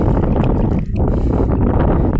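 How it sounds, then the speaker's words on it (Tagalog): Strong wind buffets the microphone out on the water near a fishing boat, a loud continuous roaring rumble with no talk. "Tapos malakas pang hangin."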